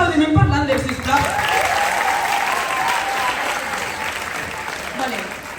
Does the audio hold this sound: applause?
yes